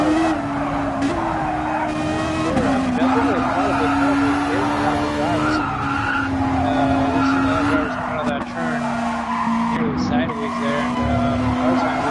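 A Toyota FT-1 Gr.3 race car in a racing video game runs wide into the dirt at the Autopolis hairpin. Its engine drones steadily while the tires squeal and skid, with a commentator talking over it throughout.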